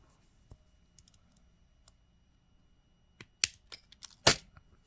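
Jewelry wire trimmed with cutters while making art-deco style chained earrings: a quiet room, then a few sharp metallic snips and clicks near the end, the last one loudest.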